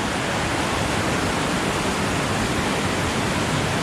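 Water of a forest stream near a camp at Cilember, Bogor, rushing in a dense, constant, loud broadband roar without breaks.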